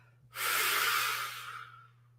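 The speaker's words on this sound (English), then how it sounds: "Now we're going to breathe out." One long, breathy exhale during a Pilates exercise, close and smooth, swelling quickly and then fading over about a second and a half with no talking.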